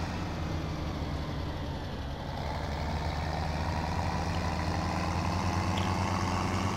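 An old Case IH tractor engine runs steadily at idle, a loud, low, continuous diesel rumble that holds constant and close throughout, with no talking.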